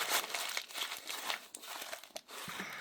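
Sheets of paper crumpled and balled up by hand, a steady stream of close, crackling crinkles and crunches with brief pauses between handfuls.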